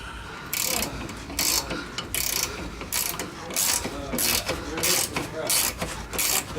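A ratchet wrench tightening a sway bar bolt on a BMW E39 during an Eibach sway bar install, clicking in quick close bursts with short pauses between strokes.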